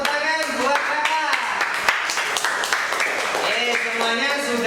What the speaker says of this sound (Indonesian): Kasih tepuk tangan buat kakak.